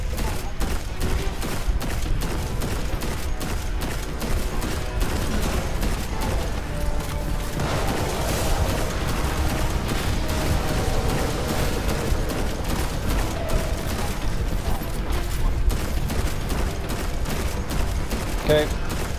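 Dense, continuous gunfire and explosions from a Destiny 2 boss fight against Oryx, with rapid shots and booms layered throughout, loud and sustained without pause.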